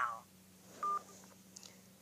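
A single telephone keypad DTMF tone for the digit 2 on a Motorola Electrify phone, one short steady beep near the middle, fairly faint over a low hum, with brief voice-prompt sounds before and after.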